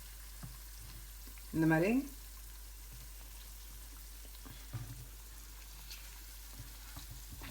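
Paneer 65 frying in hot oil, heard as a steady faint sizzle with a brief scraping clatter as pieces are lifted out, and someone speaking briefly over the frying.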